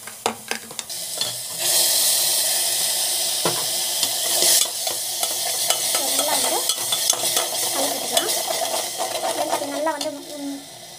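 Ingredients are stirred and fried in a pan for a simple home-cooked pregnancy diet dish. A loud, steady sizzle runs throughout, broken by repeated spoon scrapes and clatter, with a faint voice appearing briefly later on.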